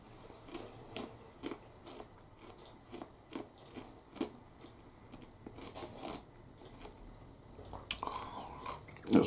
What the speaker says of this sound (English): The biscuit is very crispy.